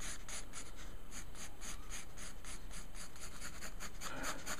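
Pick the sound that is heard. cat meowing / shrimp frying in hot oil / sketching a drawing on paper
sketching a drawing on paper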